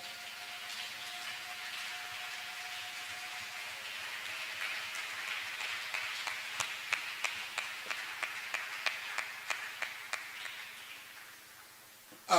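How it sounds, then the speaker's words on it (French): A church congregation claps while taking their seats, producing a run of steady, evenly spaced claps over a low room hum, moderately near, then trailing off and ending in a single thump. "Puissions-nous applaudir en nous asseyant."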